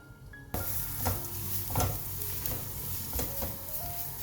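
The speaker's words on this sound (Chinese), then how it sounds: "锅内放入一些油，先把香菇放进来炒香，可以冷油下锅" Shiitake mushrooms stir-frying in oil started in a cold wok for a vegan cabbage dish. A soft sizzle begins suddenly and keeps going, broken by a few scraping stirs of the spatula against the pan. Nobody speaks.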